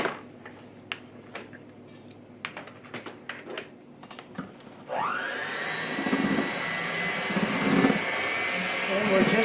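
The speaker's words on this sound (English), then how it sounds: "And we're just mixing everything." An electric hand mixer runs steadily through banana bread batter, starting abruptly partway through after some light clattering and then whirring loud and continuous until the end.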